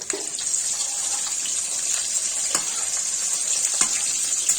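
Potatoes frying in hot oil with turmeric give off a steady, dense sizzle that holds level throughout, with a few brief crackles and the light scrape of a spatula as they are turned.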